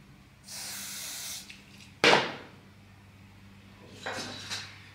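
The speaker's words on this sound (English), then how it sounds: "Okay, let me put some spray first." Hair spray hisses from an aerosol can in a steady burst of about a second, followed by a sharp knock, then two shorter spray bursts, all close by with no talking.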